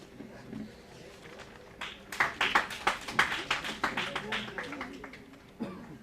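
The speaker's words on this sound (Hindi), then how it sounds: "तालियां बजाते रहिए आप" An audience at a Delhi University gathering claps in a burst of rapid, fairly close applause that swells for about three seconds and then tapers, with a speaker's voice heard before and after.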